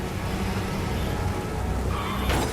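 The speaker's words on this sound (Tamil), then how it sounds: "இந்த ஸ்வீடன் நகரில் கனமழை என்றால் இப்படித்தான் இருக்குமோ?" A simulated heavy rainstorm in Gothenburg, Sweden, produces a dense, steady, loud wash of pouring rain, with a brief brighter splash near the end and no voices.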